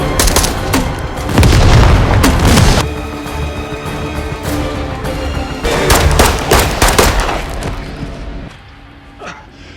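Loud bursts of gunfire, rapid automatic volleys and heavy booms, come in two intense clusters separated by a quieter stretch, fading out at the end.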